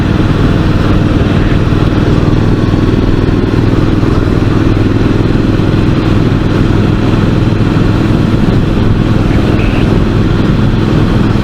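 A KTM motorcycle engine running on an open road, a loud, steady drone with wind roar, heard continuously and close with no talking.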